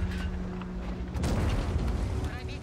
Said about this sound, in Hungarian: Legalább még egy lövés erre.